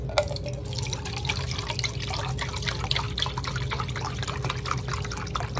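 Milk pours into a crock pot for homemade hot chocolate, a close, steady liquid trickle and splash with small dripping sounds throughout.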